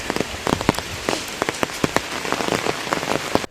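Sudden rain pours down and patters hard on a surface close by, a dense steady hiss broken by frequent sharp spattering drops, with no voices.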